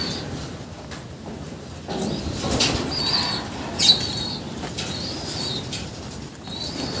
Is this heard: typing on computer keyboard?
no